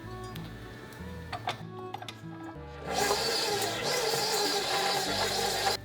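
A stand mixer churns sourdough cookie dough with chocolate chips, ticking and clattering lightly at first, then whirring into a loud, steady mechanical hum close by.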